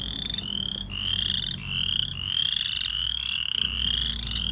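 Male chorus frog calling from a vernal pool, a series of rising creaky trills repeated in quick succession, loud and close over a low background rumble, with no voices.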